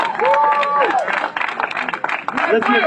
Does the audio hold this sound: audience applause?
yes